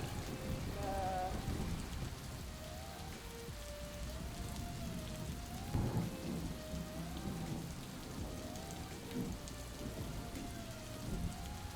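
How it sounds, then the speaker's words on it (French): Steady rain in New Zealand patters and hisses across the whole stretch, with a low rumble of thunder and faint bird-like chirps in the background. "La pluie qui ruisselle sur nos visages rend les routes glissantes"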